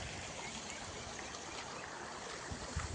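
A Konkan village stream at Tivare Gangechiwadi runs full after the previous day's rain, a steady, close, hissing rush of flowing water with no talk.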